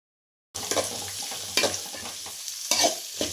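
Oil tempering with mustard seeds, cumin and chana dal frying in a pan, a steady close sizzle with stirring scrapes and brief louder crackling bursts throughout.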